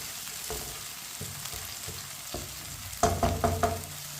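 Chopped ginger frying in a pan, a steady soft sizzle with occasional stirring scrapes, then a few sharper clanks of a spoon against the pan near the end.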